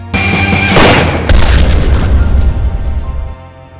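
A loud, booming gunshot bursts out close by, followed by a second blast and a long rumbling decay that fades out.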